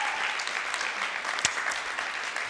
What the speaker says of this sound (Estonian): esinejatele palun üks suur aplaus veel